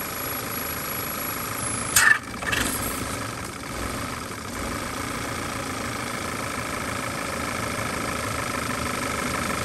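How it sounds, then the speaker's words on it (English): An Audi 2.0T engine idling with the PCV line disconnected, a steady close idle drone with a hissing vacuum leak, plus a brief burst of mechanical noise early on before the idle settles. "this makes a massive air leak. So I want you to hear the difference."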